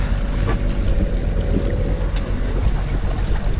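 Sailboat moving through sea waves around Gibraltar, a steady rush of water against the hull mixed with wind buffeting the microphone, continuous and fairly loud, with no talk.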